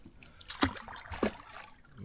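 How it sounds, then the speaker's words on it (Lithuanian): Two splashy oar strokes from a rowing boat on a river dip into water about half a second apart, with soft water movement between them and no talking. "Žmona irkluoja, aš mėtau spiningą."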